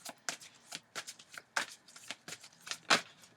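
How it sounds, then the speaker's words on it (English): Tarot cards are shuffled repeatedly up close, producing quick crisp riffling flutters in an uneven rhythm, soft and nearby. "So let me shuffle."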